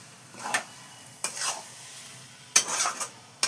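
Whisked sour yogurt going into spices frying in a pan for a pea dal (kadai shutir dal): a few short stirring scrapes and soft sizzling bursts, close and fairly quiet, with no talk.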